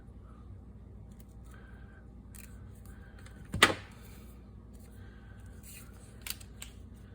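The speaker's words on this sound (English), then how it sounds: "you could choose to just cut hearts out of" Scissors cut hearts out of scrapbook paper for a Valentine's playing card craft, giving one crisp, close snip midway through a quiet room and a fainter click later.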